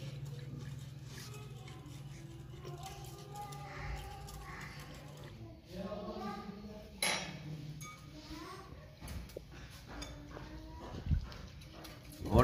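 Sugar and salt being stirred into a village satoon drink give faint scattered clinks and scrapes of a utensil against a vessel, mostly under a woman's steady speech, with a few louder knocks near the end.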